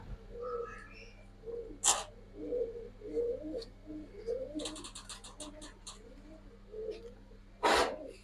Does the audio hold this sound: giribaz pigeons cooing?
yes